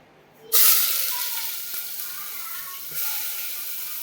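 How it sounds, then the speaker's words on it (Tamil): Sliced onions drop into hot oil in a pan for a pepper chicken gravy and start frying with a sudden, steady hiss and sizzle that stays strong and close, with no talking. "வெங்காயம் நல்லா பொன்னிறமாக வதங்கணும்"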